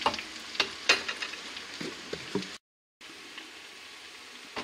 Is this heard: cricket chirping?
no